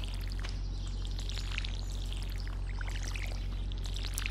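Watering can pouring water onto crops in Stardew Valley, a continuous splashing pour under a low steady hum, with faint chirpy bird sounds in the background.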